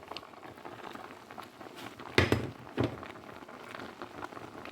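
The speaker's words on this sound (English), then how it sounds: "my yam has been cooking." Yam and ripe plantain porridge bubbles in a pot, a close, steady patter of boiling with a couple of sharper pops or knocks midway.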